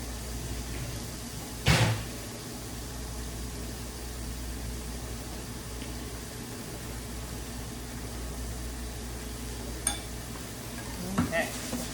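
Stir fry vegetables sizzling in a pan, a steady close frying hiss throughout with a few sharp clinks of a utensil against the pan scattered over it.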